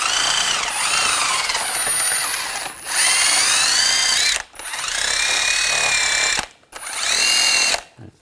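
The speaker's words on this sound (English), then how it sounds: "There's a little bit of rust on this bolt. I'm just taking a wire brush, cleaning it up a little bit." A power wire brush grinds rust off a bolt on the rear upper control arm of a 2004-2009 Audi A4 Quattro, a loud, close, high-pitched whine running in three long bursts with short pauses between.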